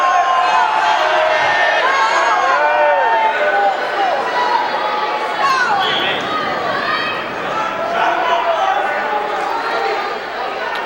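Loud crowd chatter fills a gym at a district wrestling finals, many overlapping voices, shouts and calls, with an announcer-style voice talking over the general hubbub throughout.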